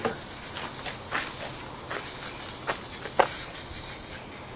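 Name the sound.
spraying spray adhesive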